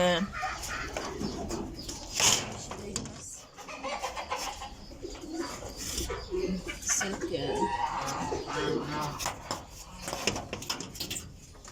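Chicks and a hen in a coop, soft clucks and cheeping scattered under a person talking nearby throughout.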